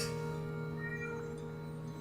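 A pet cat meows in the background behind steady game music, the cries faint and wavering over a continuous tonal bed with no talk.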